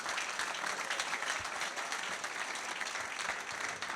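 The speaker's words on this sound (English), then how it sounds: "Big round of applause for the guests." An audience at a fan forum claps for the guests, giving steady, sustained applause throughout from a crowd a little distance away.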